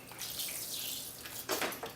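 Water poured over freshly sown seed trays of tomatoes, lettuce and nasturtium pressed into potting mix, a steady close splashing stream that swells in a brief heavier gush near the end.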